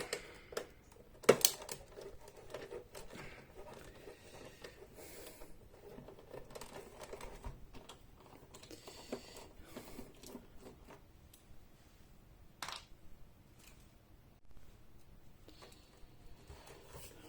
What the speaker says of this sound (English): Star screwdrivers. Remove these 3 screws.